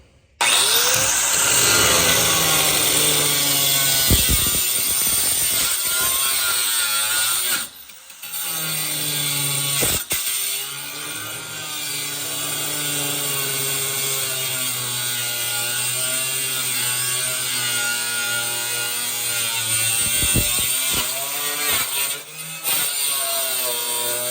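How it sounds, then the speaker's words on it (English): A power saw cuts through the sheet-metal roof of a VW Beetle in a long, loud, continuous grinding run with a few short pauses, no talking over it. "So let me cut that loose real quick, down to probably about right there."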